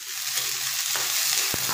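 Onions sizzling lightly in a little oil in a pan while cooking dried lotia fish with potatoes, a steady soft frying hiss with a few faint stirring clicks near the end.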